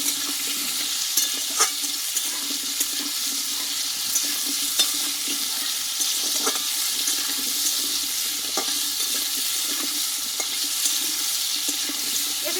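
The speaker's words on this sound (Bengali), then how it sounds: "আমি হাতের সময় নিয়ে আলুটা ভালোভাবে কষিয়ে নেব" Potatoes sauté with turmeric and salt for a Bengali aloo potol dalna, a steady hiss of frying running throughout, broken by soft scraping stirs and occasional light clicks of the spatula against the pan.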